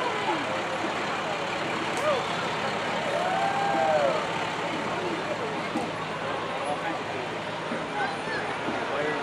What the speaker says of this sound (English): Rescue truck.